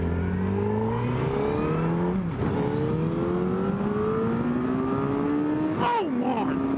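A 2009 Suzuki Hayabusa motorcycle revs hard through its gears, engine pitch climbing steadily with a brief drop at a shift, then rising again as it pulls away loudly amid steady wind rush.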